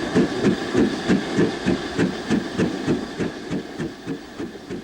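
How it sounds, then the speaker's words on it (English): Steam locomotive accelerating a train on a gently falling gradient through the Nene Valley, heard as steady rhythmic beats with a regular rolling pulse, fairly close and continuous throughout. "Here the line is on a gently falling gradient, assisting the locomotive to accelerate the train."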